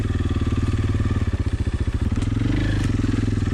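A dirt bike engine riding off, a close, loud, rapid motorcycle putter with a steady pulsing beat that shifts in pitch as it pulls away, with no voices over it.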